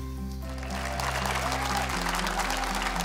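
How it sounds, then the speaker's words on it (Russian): A television audience claps for a young girl singer from Uzbekistan. The applause is a dense, steady wash over a low musical hum and lasts for the whole stretch. "И также наши зрители аплодировали, потому что ты очень красиво выступала"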